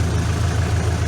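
Homemade tractor engine idling with a steady low rumble, close and fairly loud, heard alone without speech.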